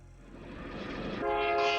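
A train in the video game My Name Is You rumbles nearer and swells into a sustained horn blast, growing louder over a couple of seconds.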